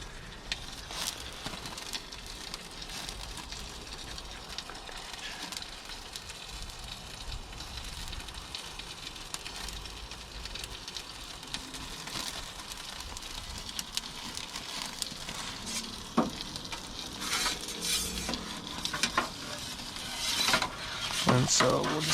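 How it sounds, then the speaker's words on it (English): Oil from peppers sizzles on a Detroit-style pizza baking in an Ooni Koda 16 gas pizza oven, a faint steady crackle over the oven's roar, with scattered clicks and clatter near the end. "And you can hear that oil from the peppers."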